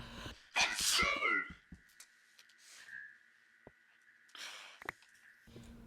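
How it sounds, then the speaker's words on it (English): A single loud sneeze with a sharp burst, followed by a long thin whine and scattered small clicks and rustles in a quiet room. "that sneeze was incredibly embarrassing"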